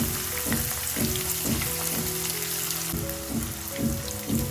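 Chopped medium onion dropped into hot oil with spluttering seasoning, frying with a steady close sizzle and faint stirring knocks throughout, no voices.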